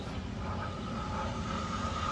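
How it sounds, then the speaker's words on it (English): A radio-controlled F-16 model jet taxis at a large RC flying event, giving a steady, continuous turbine-like roar and whine of even loudness throughout, with no talk over it. "So next up is the F-16. It's taxiing down."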